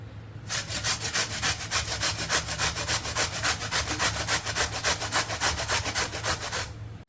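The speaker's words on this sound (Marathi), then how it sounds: "आता आपण या कैऱ्या किसून घेऊयात" Peeled raw green mangoes being grated by hand, a steady rapid rasping scrape repeating in even strokes, close and fairly loud, with no talking.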